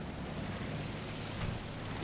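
Water washes against a PT-76 amphibious light tank sitting low in the sea in War Thunder, a steady rushing surf and low engine rumble filling the whole stretch with no talk.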